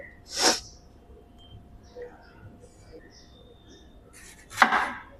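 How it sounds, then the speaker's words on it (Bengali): A knife cuts capsicum into square pieces on a board, with two distinct crisp chopping bursts, one near the start and one near the end, separated by quiet kitchen background. "এগুলোকে স্কোয়ার স্কোয়ার পিস করে পিস করে নেবো"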